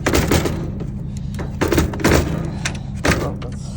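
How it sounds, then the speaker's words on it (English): A screen door is forced open in a series of sharp rattling thunks and scrapes, several knocks spaced irregularly. The sounds are close and moderately loud. "This door, the screen door doesn't want to open."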